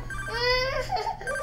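Telephone ringing indoors at home, a bright warbling electronic ring that swells and repeats under a steady room hum, with a brief voice-like sound near the end.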